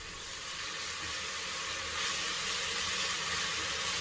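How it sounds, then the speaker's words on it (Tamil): Onion and ground masala paste fry in a pan with a soft, even, continuous sizzle that stays faint and unbroken, with no voices. "மசாலா ராஸ்மல் போகிற அளவுக்கு நல்லா ஃப்ரை பண்ணிக்கோங்க."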